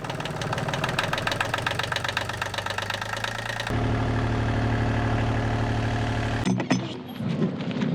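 A sailboat's recently repaired engine rumbles at idle, loud and close, with a rhythmic knocking throb that shifts in character partway through.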